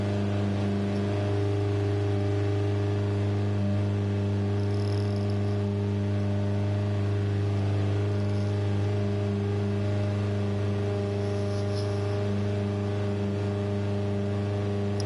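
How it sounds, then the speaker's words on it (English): A car engine in Gran Turismo 7 holding a steady, sustained hum at high revs, droning continuously for a long stretch with little variation and no voices. "apologies for the annoying revving of that engine as well."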